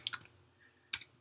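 Keystrokes on a computer keyboard, a quick pair of clicks at the start and another pair about a second later, sparse and moderately close in a quiet room.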